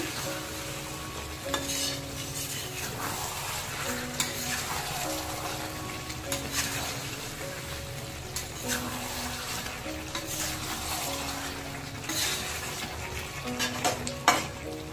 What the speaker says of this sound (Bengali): এভাবে কষাচ্ছি, সাথে চিকেন থেকে সুন্দর জলও ছেড়ে গেছে।